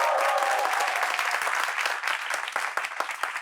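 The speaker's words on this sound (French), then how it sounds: "Applaudissements pour vous-même, chers amis du public." Studio audience applauding on a French talk show, a dense wash of clapping that stays steady and then thins slightly toward the end, with no voices over it.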